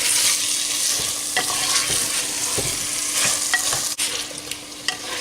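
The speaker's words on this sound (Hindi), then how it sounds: "इस गोश्त को ज़रा हम फ्राई करेंगे ताकि इसका कलर चेंज हो जाए।" Mutton pieces fry loudly in a pot, a dense hiss and sizzle with frequent scraping and clinking strokes of a spoon stirring them, close and continuous.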